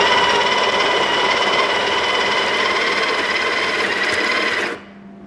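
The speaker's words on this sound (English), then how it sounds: "take your portafilter and place it into the machine, into the grinder, and give it a gentle press to start the grinding" Breville Smart Grinder Pro grinding coffee into a portafilter, a steady loud whirring hum for about five seconds that cuts off abruptly at the end.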